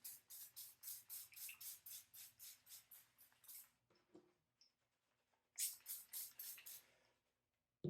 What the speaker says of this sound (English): Then I just spray it a little bit.